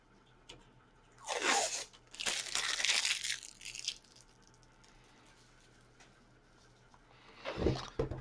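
Cellophane packaging pieces crinkle and crunch in bursts while being handled during an unboxing, two crackling bouts early, a quiet pause, then another sharp crinkle near the end, close and moderately loud.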